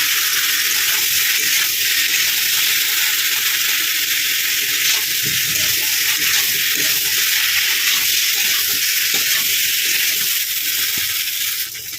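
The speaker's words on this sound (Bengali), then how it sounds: "এবার ভালোভাবে আমি কষিয়ে নেব" Masala without tomato, seasoned with salt, cumin and chili, sautéing in a pan: a loud, steady, close sizzle and crackle runs unbroken throughout, with no one talking.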